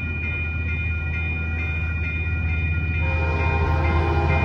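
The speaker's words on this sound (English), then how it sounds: "Here comes Amtrak Capital Corridor train 727." Amtrak Capital Corridor train 727 led by an F59PHI diesel locomotive passing in Oakland, a loud steady rumble with a sustained horn blast ringing out close by, no talk.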